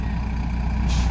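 A big Monaco motorhome bus turning around at a campsite in Flagstaff, its heavy engine droning loud and close. A sharp air-brake hiss bursts in near the end.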